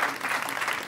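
Audience applause at a live comedy show, a brief dense patter of clapping hands filling the room at steady loudness.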